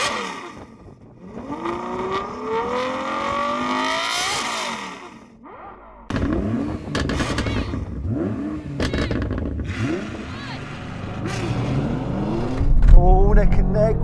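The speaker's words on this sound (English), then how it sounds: "It's actually been fitted with a Novitec upgraded exhaust" A Ferrari V12 with a Novitec upgraded exhaust revs hard, its engine note climbing and falling through loud, rising sweeps, close and prominent, with a deep rumble as the car accelerates.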